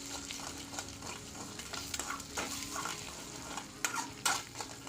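Eggs are scrambled with salt and pepper in hot coconut oil, probably with semiya. A steady close sizzle runs under repeated scraping stirs of a spatula against the pan, with a few sharper knocks near the end.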